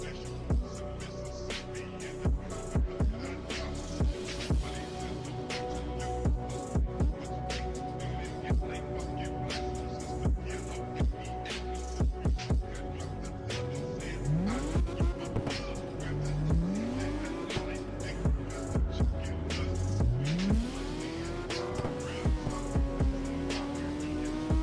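A drifting car in the racing game CarX Drift Racing Online, engine revving in repeated bursts with rising pitch sweeps and tire squeals, loud and close, with a voice talking at times.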